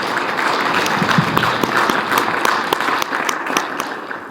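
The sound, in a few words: audience applause for Sebastian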